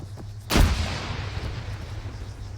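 A frag grenade bursts in Arma 3 with one loud, sharp boom, followed by a rumbling tail that fades into steady background noise.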